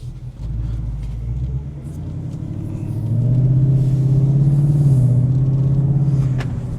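A car with a classic muffler rumbles while driving. Its low, throaty exhaust drone swells into a louder, steady hum as the engine pulls, then eases off slightly near the end.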